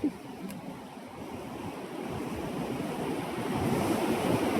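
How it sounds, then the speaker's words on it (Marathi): Steady roar of rough ocean surf where fishing is underway, with waves breaking continuously, building slightly louder toward the end, no voices present. "तुमच्या समोर ज्या लाटा आहेत"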